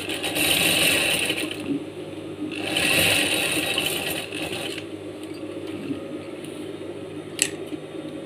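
Sewing machine topstitching a vest pocket runs in two steady bursts with a pause between, then quieter handling clicks and a single sharp tap near the end.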